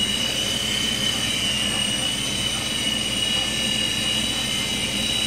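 A SkyRover Navigator toy helicopter's rotors give a high, steady mechanical whine with a constant buzzing hum, like a small rotor spinning nonstop; the tone stays level the whole time.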